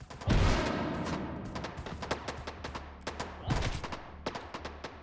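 A grenade blast in the VR shooter Hot Dogs, Horseshoes & Hand Grenades, a loud booming burst followed by rapid crackling gunfire, then a second heavy blast and more scattered shots.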